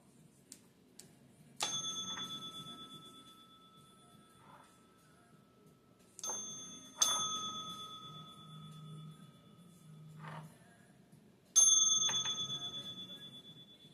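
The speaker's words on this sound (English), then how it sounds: "I'm going to be ringing that bell, or that sound bowl rather" A sound bowl is struck three times, each strike ringing out with a clear sustained tone that slowly fades into quiet.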